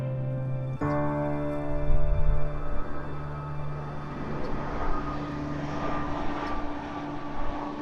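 An ICE Air deportation airplane drones overhead with a strong, steady engine tone that swells and holds for several seconds, fairly loud and alone without speech.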